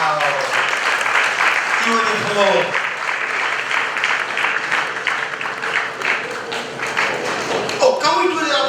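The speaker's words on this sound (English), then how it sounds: "can we do the applause better, please?" A large crowd at a graduation ceremony attended by the Asantehene and his wife applauds loudly and continuously, with cheers, shouts and a voice speaking over the clapping.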